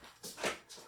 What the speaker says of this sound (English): but my dog Dixie is crying so hard